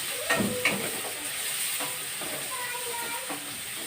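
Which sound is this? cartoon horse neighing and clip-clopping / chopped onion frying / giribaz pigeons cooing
chopped onion frying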